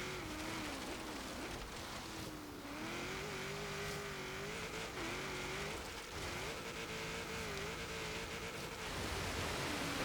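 A turbocharged V8 in a 1983 GMC Vandura G-1500 offroad build in Forza Horizon 3 drones loudly and steadily, its pitch rising and dipping as the engine revs throughout, with no talking.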